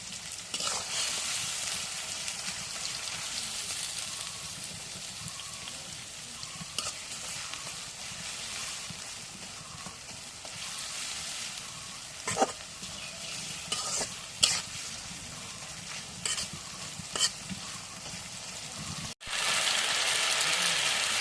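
Oil sizzles and crackles steadily in a pan while goat meat curry fries, a continuous close hiss broken by occasional sharp pops and stirring scrapes, with a louder burst of sizzling near the end.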